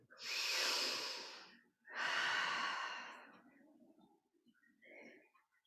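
Slow, deep breathing during a curled-up yoga pose: two long, close, airy breaths in steady rhythm, followed by a softer, shorter exhale trailing off into quiet.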